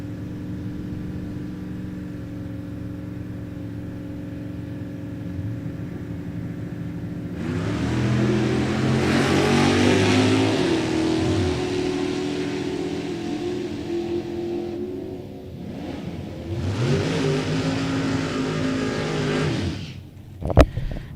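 Drag race between a Malibu and a 1967 Mustang: engines idle with a steady rumble, then roar at full throttle from about seven seconds, fade briefly, and surge loud again before a sharp final burst.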